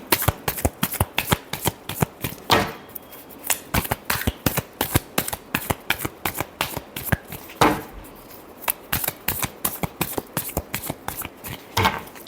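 Tarot cards are shuffled by hand in rapid, close, crisp riffling flutters that repeat steadily for about twelve seconds, with short pauses between rounds and no talk.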